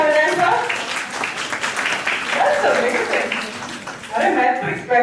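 An audience at an entrepreneurship session claps along under a speaker's ongoing talk, a continuous crackling patter of many hands that sits beneath the loud voice throughout.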